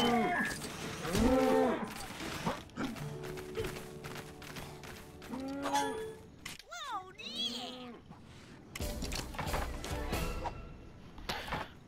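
Cattle mooing in the LEGO Worlds video game, several drawn-out moos over a busy game soundscape, with a voice speaking at times.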